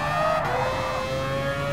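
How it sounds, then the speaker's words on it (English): The rotary engine of a Mazda RX-Vision GT3 Concept race car in Gran Turismo, holding a steady, loud high-revving drone with a clear tonal whine, close and continuous. "my favorite thing about this car is the engine noise"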